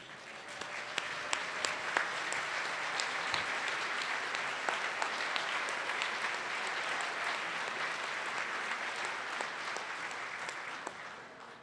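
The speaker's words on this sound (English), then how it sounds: "let's give them a round of applause" Sustained applause from a luncheon audience at an annual leadership meeting, steady dense clapping filling the room for the whole stretch, with a faint voice or two beneath.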